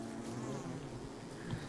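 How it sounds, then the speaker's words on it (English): Bees hum near a large hive in Don't Starve Together, a low, steady, fairly quiet drone that holds throughout with no voices. "I think I found the bee, like, mega hive location."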